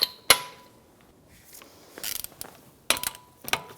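A torque wrench ratchets on the wheel lug nuts of a 2009-2014 Nissan Maxima, with several short bursts of rapid metallic clicking broken by pauses, close by and without talk.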